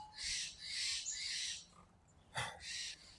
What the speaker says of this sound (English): But the birds all riled up.